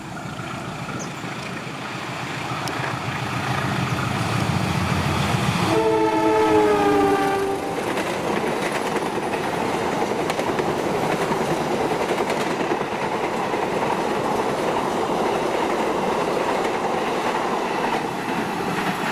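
Brantas 110A passenger train passing, a loud sustained rumble of wheels and cars with a stepped, sliding horn blast midway, the roar continuing steadily to the end without speech.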